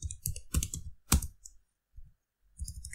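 Computer keyboard typing Linux group-add commands in a terminal, heard as quick clusters of close, crisp key clicks with short pauses between bursts of keystrokes.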